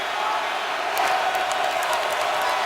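A packed NFL stadium crowd at a Broncos versus Falcons game roars in a steady, broad wash of cheering, swelling slightly partway through, heard at a distance with no talking over it.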